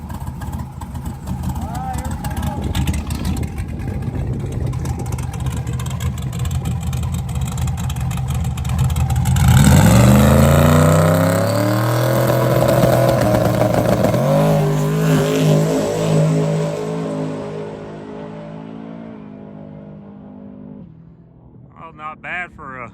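A drag truck roars hard down a drag strip, the engine note climbing and rising through the run before fading off, loud and close, with people talking over it.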